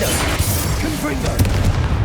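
Confringo blasting spell fired in the video game Hogwarts Legacy on PC: a few heavy booming blasts and crackling impacts land over a busy combat soundscape, moderately loud, with shouted voices in between.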